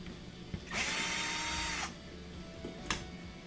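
A power driver backs out Phillips head screws from a bracket on a Frigidaire dishwasher during a pump replacement, with one sustained whirring burst of about a second, a short click before it and a sharp tap afterward.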